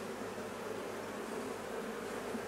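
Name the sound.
honeybees buzzing at the hive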